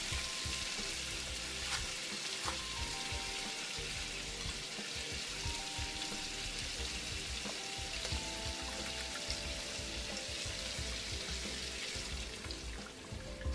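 Heavy cream is stirred into a sizzling pan for garlic shrimp fettuccine Alfredo, producing a faint, even hiss of frying that runs steadily throughout with a light hum underneath.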